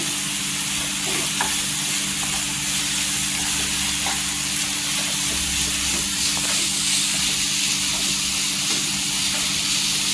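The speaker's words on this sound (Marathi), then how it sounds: "फास्ट गॅसवर भाजून घ्यायची छान असे तेलावर" Dried fish roasting in oil over a high gas flame gives a steady, loud, continuous sizzle and hiss, with faint stirring scrapes underneath, close and unbroken throughout.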